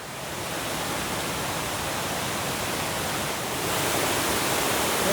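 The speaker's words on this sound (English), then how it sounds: "the waterfall is further down there" A jungle waterfall below a weir in Banlung, Ratanakiri, giving a dense, even roar of rushing water that fills the scene steadily and swells slightly louder near the end, with no voices.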